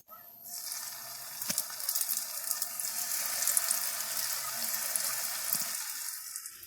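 Chicken drumsticks frying in hot oil, a loud, continuous hiss and crackle that starts abruptly and holds steady, with a couple of sharp knocks.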